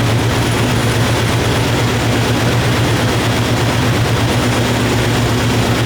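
A first-generation Toyota Sequoia engine runs steadily at idle during power steering bleeding, a loud, continuous low rumble with no pauses and no voices.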